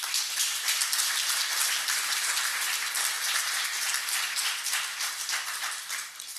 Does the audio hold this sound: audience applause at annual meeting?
yes